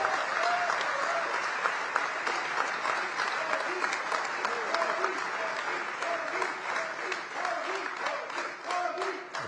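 Sustained applause fills the US Congress chamber, dense and continuous clapping from a large crowd, steady and loud throughout with murmurs beneath.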